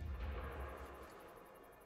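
A heavy cannon blast in a pirate-ship video game lands as a deep, booming rumble that rolls out over about two seconds.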